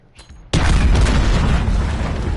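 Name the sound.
explosions in video game Modern Warfare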